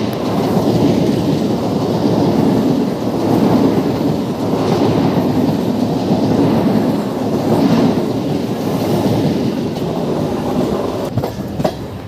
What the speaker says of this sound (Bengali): আমাদের ট্রেন এখন এসে পৌঁছালো বাংলা নয়বার জংশন স্টেশনে।